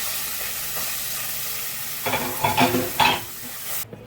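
Ground meat frying in a little oil in a pan gives a steady low sizzle, then stirring and scraping bursts in the last two seconds, with a utensil clinking against the pan near the end.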